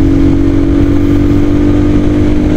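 A Himalayan Scram 411 motorcycle pulls in first gear with a loud, steady, close engine drone and a buzzy low hum, mixed with rushing road noise.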